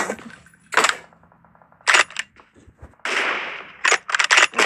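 Shotgun blasts ring out in the mobile game PUBG Mobile, with several sharp, loud reports spaced unevenly across the moment and a longer burst of noise in the middle, with no voices audible.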